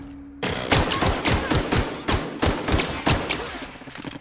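Rapid burst of gunfire from a gun in The Outer Worlds video game, about a dozen loud, evenly spaced shots in quick succession, close and sharp.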